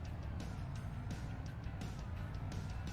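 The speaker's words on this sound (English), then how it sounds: "Oh, our truck is going sideways here. A little too fast." Truck driving too fast and sliding sideways in a PC farming video game, a steady engine drone with repeated brief bursts of skidding noise, fairly faint and without talk.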